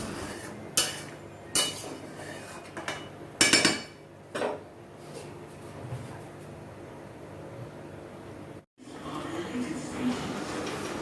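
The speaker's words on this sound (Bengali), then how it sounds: "ভালো করে নাড়াচাড়া করে নিতে হবে" Mutton simmering in boiling gravy in a pot is stirred with a utensil, giving several sharp metallic clinks and scrapes against the pot over a steady low bubbling bed, the strikes clustered early and then fading into the simmer.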